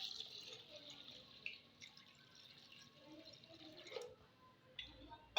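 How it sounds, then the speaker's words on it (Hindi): Water trickles and splashes faintly into a cooking pot of beef, cloves and cinnamon for beef karahi, a thin, uneven pour with small drips and clinks against quiet kitchen background. "अब डालेंगे इसमें पानी"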